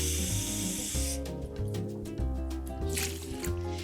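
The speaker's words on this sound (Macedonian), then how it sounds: "Ќе ставите 2 шолји вода" Water poured into a rice and quinoa cooker pot for cooking quinoa, a loud, steady splashing gush with bubbling and hissing throughout, close and alone.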